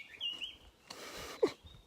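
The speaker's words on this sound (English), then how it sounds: "Listen to the birds." Faint outdoor birdsong on a quiet morning, with a few thin chirps and tweets over soft background hiss and a brief nearby rustle.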